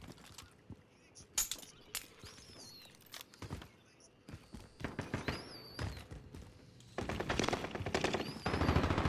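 Bursts of C58 rifle fire in a Call of Duty match crack out in short volleys and scattered single shots, some near and sharp, others fainter, with people talking over the shooting throughout.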